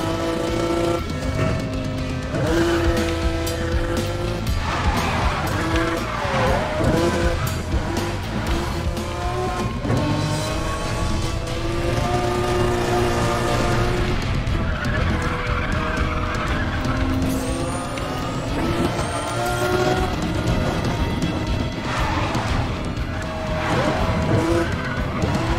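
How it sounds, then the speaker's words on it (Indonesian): Mustang and Lamborghini Aventador race in the video game Need for Speed The Run: loud, continuous engine roar with shifting revs and repeated tire squeals and skids, heard alone without talk. "mari kita balapan. Mustang melawan Aventador."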